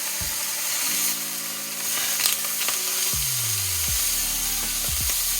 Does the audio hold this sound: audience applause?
no